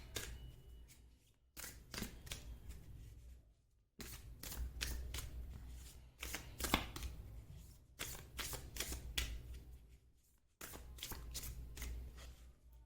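Tarot cards being shuffled by hand in close, crisp bursts of riffling and flicking, broken by short pauses between rounds and heard alone without talk.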